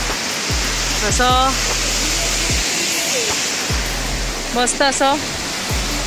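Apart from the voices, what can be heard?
small waterfalls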